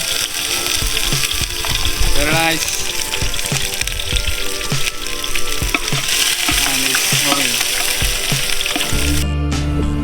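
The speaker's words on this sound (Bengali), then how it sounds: "তেল দেওয়া হয়ে গেছে এখন দেওয়া হবে পেঁয়াজ মরিচ" Onions and chillies are tossed into hot oil for khichuri cooked outdoors at a village campsite in Bangladesh, producing a loud, steady sizzle and crackle with occasional stirring scrapes and no talk.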